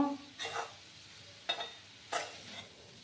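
Boiled raw papaya is stirred in a pan for a sweet dish, giving three or four soft, brief scraping strokes over a quiet background, close and faint.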